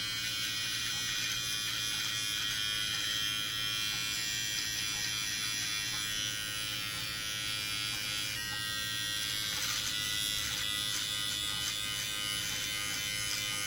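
A Brightup rechargeable hair clipper and beard trimmer runs with a steady, high-pitched electric buzz, close up and alone, holding constant for the whole stretch with slight shifts as it moves.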